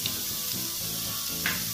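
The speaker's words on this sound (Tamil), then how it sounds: "வெங்காயம் பார்த்தீங்கன்னா நெய்யிலேயே வந்து வதங்கிட்டு இருக்கு" Onions frying in ghee with a cinnamon stick, two cardamom pods and three cloves for egg biryani, giving a steady close sizzle and hiss throughout with brief louder spurts and no talk.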